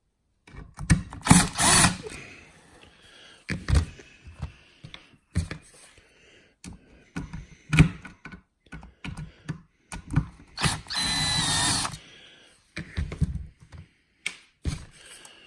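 Electric drill backing screws out of an RC car starter box motor, with short repeated bursts of whirring, one longer steady run, and clicks and handling noises between them.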